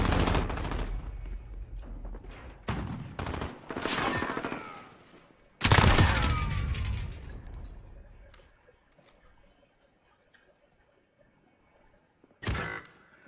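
Shotgun fire in a Call of Duty Modern Warfare Search and Destroy match: several loud, booming blasts in quick succession, then a quieter stretch and a final shot near the end.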